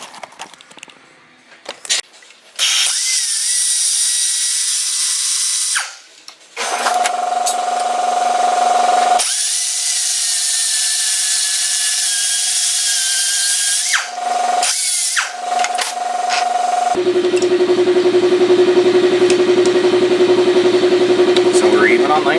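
A power tool whines as it cuts down a bolt with a nut threaded on, loud steady grinding bursts that stop and restart, with a shift in pitch as the cut changes.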